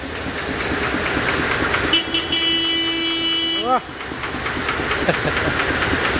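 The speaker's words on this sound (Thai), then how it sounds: "บีบแตรสิดังไหม" Horn of a Thai Itan (E-taen) farm truck honks in one long steady blast of about two seconds, loud and close over a running engine, followed by a brief upward squeal.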